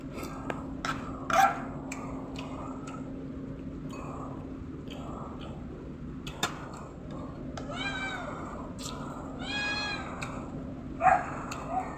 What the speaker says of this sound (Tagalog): Yung mga pusa ko guys may ingay.